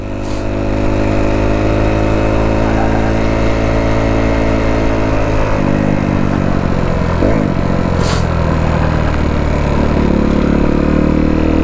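A mountain motorcycle engine running loud and close, a steady droning note that shifts and stumbles briefly partway through as it misfires.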